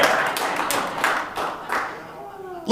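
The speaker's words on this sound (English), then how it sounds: "What happened to that applause break from earlier?" Scattered audience claps at a comedy news show sound as a handful of separate, fairly close smacks that fade out, followed by a sudden loud burst at the very end.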